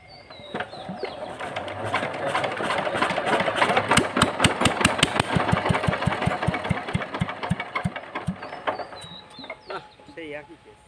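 A medium engine is started and settles into a steady idle with a rapid pulsing rhythm for several seconds before fading, while roosters and chickens cluck and crow nearby.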